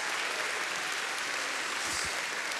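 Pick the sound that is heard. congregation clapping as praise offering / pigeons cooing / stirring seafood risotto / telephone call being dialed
congregation clapping as praise offering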